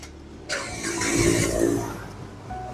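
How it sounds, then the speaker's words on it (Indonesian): A 2015 Datsun GO+ Panca 1.2 with manual transmission in neutral cranks and fires up, with a brief starter whir swelling into a steady, close engine run that then settles down. "Sekarang kita coba start mobil."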